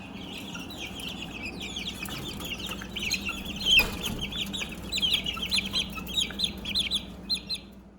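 Young chickens in a backyard flock cluck and chirp continuously at moderate volume, with brief louder peaks over a low steady background hum and no voices.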